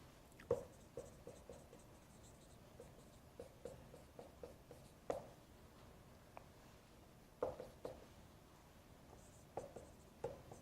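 Chalk or marker tapping and scratching on a board during a topology and analysis lecture on metric spaces, a quiet series of short irregular strokes and taps with pauses between, close and alone without talk.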